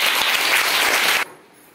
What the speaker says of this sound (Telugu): Clap clap.